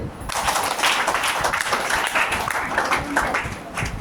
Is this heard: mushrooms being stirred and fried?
no